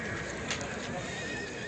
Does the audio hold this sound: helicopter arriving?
no